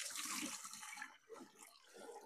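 Moringa leaf greens being washed under running water, a continuous splashing and trickling wash, fairly soft and close, with no voices.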